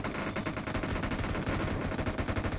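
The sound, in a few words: gunshots in the video game BGMI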